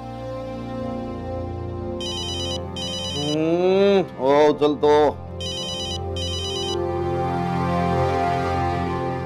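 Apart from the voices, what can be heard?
phone ringtone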